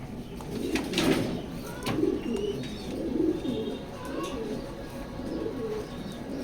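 Racing pigeons in a loft cooing steadily, several soft overlapping coos and occasional chirps over a constant background hum, close and continuous with no talk.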